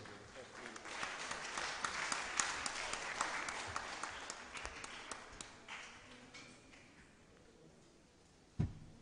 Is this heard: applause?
yes